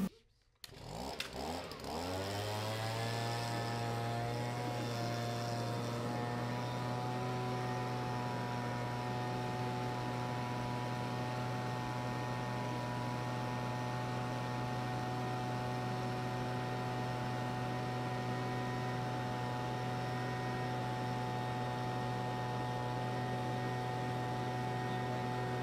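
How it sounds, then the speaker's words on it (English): A leaf blower starts up and settles into a steady, loud droning whine, pushed into fishing waders to inflate them for leak hunting, running on without a break. "put the leaf blower into the waders, start it up"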